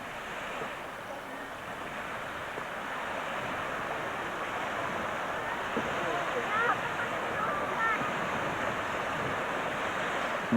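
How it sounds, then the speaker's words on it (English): Waves lapping and breaking on Lake Malawi, a broad steady wash of surf mixed with wind rushing across the microphone, continuous and moderately loud throughout. "I'm glad you've got that many waves on a lake like this."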